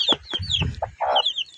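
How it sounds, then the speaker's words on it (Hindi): Small chicks peep in high, thin, rapid calls while hens cluck in lower bursts nearby, a busy close mix of poultry sounds with no talk. "ये आपको इनके चूचे दिखा रहा हूँ छोटे छोटे नन्हे नन्हे बहुत प्यारे चूचे हैं"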